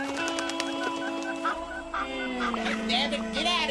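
Several chickens cluck and call on a farm, a steady, dense run of overlapping clucks with a faint voice beneath them, close and fairly loud throughout.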